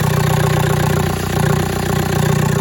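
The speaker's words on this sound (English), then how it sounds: "it's still pretty loud, but I have got the full exhaust on it" A PD130 engine swapped into a Talbot camper idles loudly and steadily nearby, its full exhaust giving a deep, rapid throbbing drone with no other sounds.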